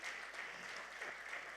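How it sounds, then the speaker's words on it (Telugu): An audience at a Telugu movie pre-release event claps together, with steady, fairly faint applause heard from a distance throughout. "అందరం గట్టిగా చప్పట్లు కొడదామా?"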